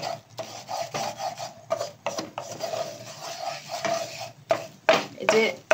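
Flour, butter and garlic stirred in a pan for a white sauce, giving a steady scraping, rasping rub with short pauses between strokes, close and fairly loud with no talk.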